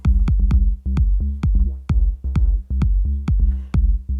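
Minilogue XD synth bass with a triangle-wave oscillator, thudding out a steady pattern of short, deep notes with soft attacks and low, rounded tone, loud and alone.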